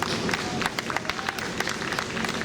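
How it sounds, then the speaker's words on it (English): A crowd at a Wear Orange community event claps for a hard-working team, with sharp individual hand claps standing out over a continuous spread of applause for a couple of seconds. "give this hard-working team a round of applause."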